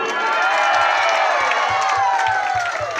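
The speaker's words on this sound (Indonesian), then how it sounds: "Kita kasih aplaus dulu." A packed village crowd at a village head candidates' vision-and-mission event in Lenek Pesi bursts into loud, continuous cheering and clapping with whoops and shouts, close and dense throughout.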